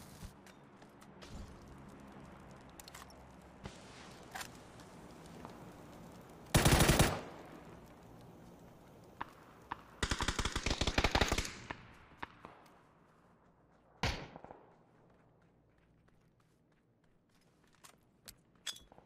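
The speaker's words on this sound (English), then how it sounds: "I'm getting shot from west as well." Gunfire from the video game PUBG: scattered faint distant shots, then a loud close burst, then a longer rapid string of automatic fire, and a final shorter burst, over a quiet background.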